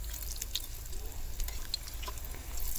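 Oats pakoras frying on low flame in oil, a soft continuous sizzle with faint crackles and occasional light stirring scrapes, fairly quiet throughout.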